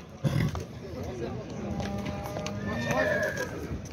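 A horse whinnies loudly and close by, with clip-clop hooves and someone speaking over it.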